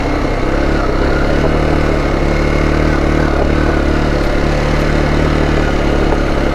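A motorcycle engine running close by in Durmitor National Park, a loud, steady mid-pitched drone that holds without much change in pace, with no talking over it.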